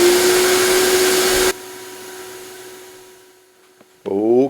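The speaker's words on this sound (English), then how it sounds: "I gotta turn on the vacuum here for the vacuum table" A loud broadband roar cuts off abruptly, leaving a steady low hum that fades, then a screen-printing vacuum table's motor starts up again with a rising whine.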